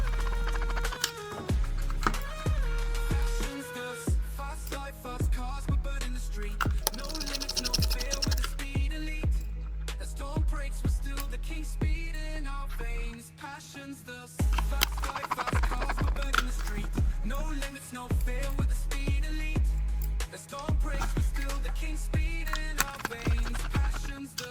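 Small screws are turned by hand into a Toyota Supra Mk IV scale model kit, giving close, repetitive scratchy clicks and ratcheting scrapes in steady bursts, with brief pauses between them.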